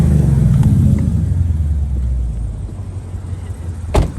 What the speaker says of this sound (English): I've got the vehicle running for you.